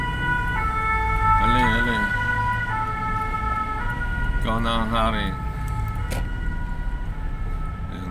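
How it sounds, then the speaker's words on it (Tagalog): A fire truck siren wails past on the road, its rising and falling tone loud and close, sweeping through twice over steady traffic rumble while someone speaks. "Nakalampas na po yung pompiye, yung bumbero"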